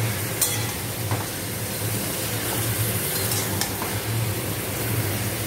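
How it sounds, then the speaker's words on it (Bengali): Chicken pieces sizzle steadily in a hot pan while being stirred for chicken do piaza, a constant close frying hiss broken by a few brief scrapes of the spoon, with no talking. "চিকেনটা দিয়ে ভালো করে নাড়িয়ে দেবো।"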